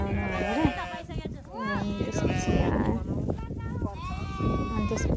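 Sheep bleat repeatedly at a farm in Nuwakot, Nepal, their wavering calls close and loud, overlapping one another with people talking in the background throughout.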